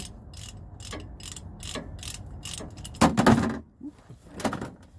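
A wrench works loose the differential fill plug on a Ram 1500, producing a series of sharp metallic ratcheting clicks and scrapes, close and fairly loud, with a heavier clank near the middle.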